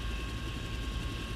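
Agusta-Bell AB 212 helicopter in Flight Simulator X running up its second engine, a steady close turbine drone with low rumble and a constant high whine throughout, no pauses.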